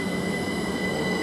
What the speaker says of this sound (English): Now the 1357 service from London King's Cross to King's Lynn is just now departing.